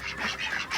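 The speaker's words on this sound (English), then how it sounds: "Got 7 ducks in there." Ducks quack in a yard, several brief nasal calls in quick succession, close and fairly loud with no talking.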